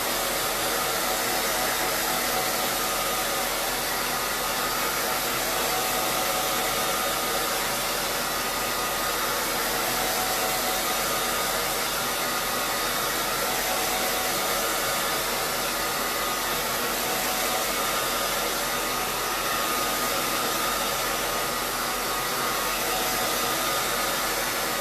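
A hair dryer blows steadily for the whole stretch to dry fresh paint on a small craft piece, a loud continuous broadband whoosh with no pauses and no talking.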